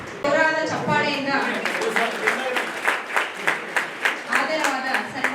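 An audience at a felicitation ceremony claps, with dense applause rising under a speaker's ongoing announcement and continuing in a steady rhythm throughout.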